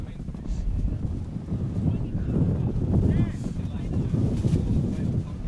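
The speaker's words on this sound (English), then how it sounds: "it is bloody windy right now" Strong wind buffeting the microphone outdoors at a men's semi-final ultimate disc match, a steady loud low rumble that rises and falls with gusts for the whole stretch.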